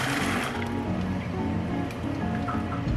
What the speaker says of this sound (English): I'm going to be draining these, so you don't just put this in, you have to drain them first to get rid of the water.